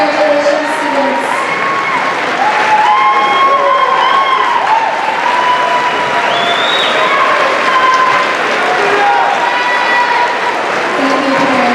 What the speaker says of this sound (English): give it up for your 8th grade children. Standing ovations, stand up, please, and give them a round of applause.